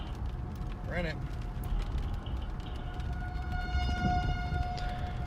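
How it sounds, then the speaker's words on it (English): Tornado sirens wail faintly in the distance during a storm chase in a tornado warning area, a rising and falling tone beneath steady vehicle road noise, with a person talking over it. "Sounds like tornado sirens are going off where he is as well."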